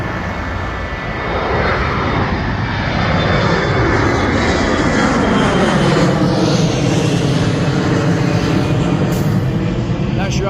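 Airplane engines at Fort Lauderdale International Airport, a loud, steady roar with a slowly shifting whine that swells and holds as an aircraft passes fairly close.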